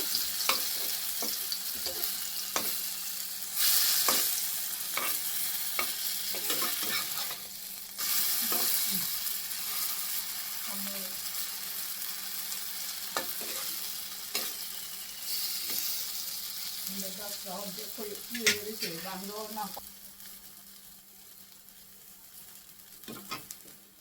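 Rice-flour-coated food frying slowly on a low flame, a soft steady sizzle with repeated scraping stirs and spatula taps, fading quieter toward the end.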